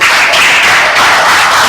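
Students in a classroom give a short round of steady, loud clapping for a classmate, the dense applause filling the whole moment with no talk over it.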